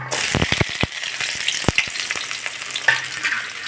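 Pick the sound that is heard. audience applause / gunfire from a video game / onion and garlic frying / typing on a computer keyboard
onion and garlic frying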